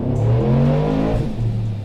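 A Procharged, BTR-cammed 6.2L GMC Denali revs hard in second gear on a chassis dyno, its engine roar loud, close and sustained, pitch rising steadily before a brief dip and climb again.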